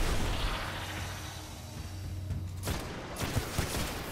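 Pistol shots in the Destiny shooter game, a few sharp bursts popping near the end over a dense, busy game-audio background, moderately loud.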